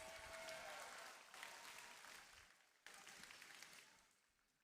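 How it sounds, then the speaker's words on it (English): Crowd applause at a FIRST robotics district competition in Cabarrus honoring award finalist nominees, a broad steady wash of clapping that thins out and fades, then a brief second burst before dying to near silence. "let's hear one more big round of applause for our Woody Flowers finalist nominees"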